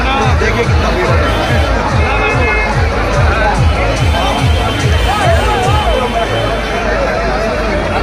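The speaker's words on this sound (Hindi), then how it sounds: "देखिए कितना भीड़ है।" A busy throng at the Nagra Navratri fair fills the air with steady, loud crowd babble, overlapping voices near and far plus rhythmic footfalls and occasional shouts running without pause.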